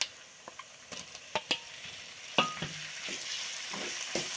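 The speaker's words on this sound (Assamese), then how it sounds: "চ' মাংসটো মই দিয়ে দিওঁ, অ'কে কৰি ফ্ৰাই কৰি লৈছোঁ" Pieces of local chicken fry with onions and spices in a pan, giving a steady soft sizzle broken by a series of sharp scraping stirs of the utensil against the pan.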